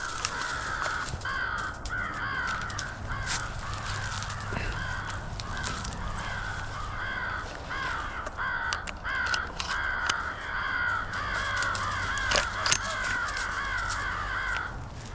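Crows caw repeatedly in a steady, overlapping chorus on the spring coast during a crow hunt, answering a hunter's crow mouth call, loud and fairly close over a windy outdoor rumble, with no talking.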